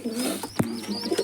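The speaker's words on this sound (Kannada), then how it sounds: "ನೋಡಿ ಗೈಸ್ ಇದು ಅಕ್ಕಿಗಳು" Pigeons in a loft coo softly and close by in short, throaty, rising notes, with a brief flutter or bump in the middle.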